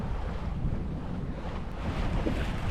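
Wind gusting over a sailboat during a regatta, a steady low rumble buffeting close by with water washing underneath and no voices.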